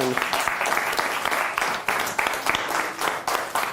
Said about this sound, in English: you get a big round hand of applause